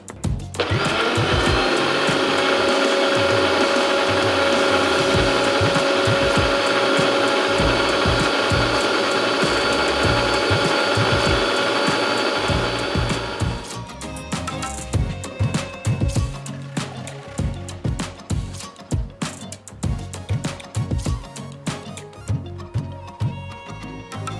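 A kitchen blender mixes a pomegranate smoothie with ice cream and sugar, whirring loudly and steadily for about thirteen seconds, then dropping to a rougher, lower churning with clattering bursts as the blades work through the mixture.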